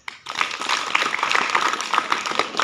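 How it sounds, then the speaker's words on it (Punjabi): An audience at a Punjabi stage comedy play claps together in a dense, continuous burst of applause that swells quickly and stays fairly loud. "ਤਾੜੀ ਮਾਰੋ ਬੜੇ ਜਿਹੇ"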